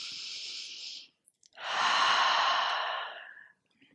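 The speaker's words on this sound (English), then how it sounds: "Let's take a breath here." A person takes a deep breath while holding a standing yoga balance pose: a soft inhale, a short pause, then a longer, fuller exhale, close and clear with no speech.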